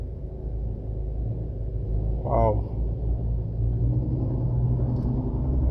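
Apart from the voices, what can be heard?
garbage truck towing another garbage truck, driving past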